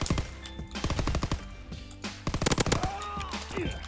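Rapid gunfire in a Roblox shooter with World War II style weapons, including a quickscope sniper shot: a burst of sharp cracks clusters into a dense volley, then rings off over game noise.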